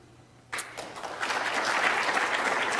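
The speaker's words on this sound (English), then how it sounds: "Just hold the applause to the end" A conference closing ceremony audience bursts into applause after a quiet moment, a dense, steady wash of many hands clapping that swells and holds, somewhat distant in a large room.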